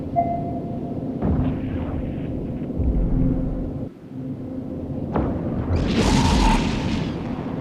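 A battleship called an Apocalypse blows up during a space fight in the mobile game EVE Echoes. Deep booming rumbles roll under a steady game soundtrack, and a bright crackling burst swells near the end.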